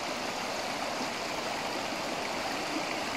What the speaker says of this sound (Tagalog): Ang dami ng tubig oh.